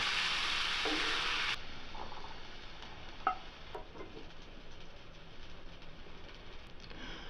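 Mushrooms fry until golden in a pan for a mushroom masala curry, giving a faint, steady sizzling hiss with a few light ticks of a utensil and no talking.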